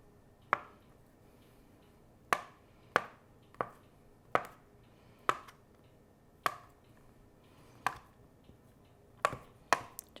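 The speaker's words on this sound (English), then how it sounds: "Just rough chop those." Boiled eggs are rough chopped on a cutting board for a ranch salad, heard as sharp, separate knife chops spaced irregularly about one to two seconds apart, close and distinct against a quiet room.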